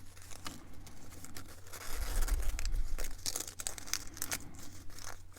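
A paper strip is handled and drawn tight while a small paper star is folded, giving quiet, close crinkling and light tearing rustles in short irregular bursts.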